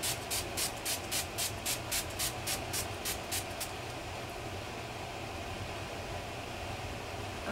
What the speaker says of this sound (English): Next, I am going to set my makeup with my spray.